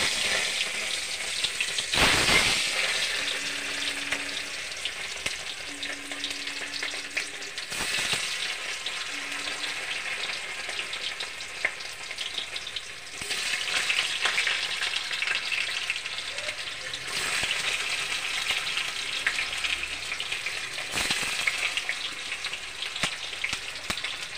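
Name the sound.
frying paneer in a wok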